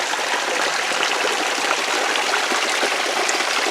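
Forest stream at Warwoman Dell near Clayton, Georgia, rushing and trickling in a steady, close, broadband wash of flowing water with no voices.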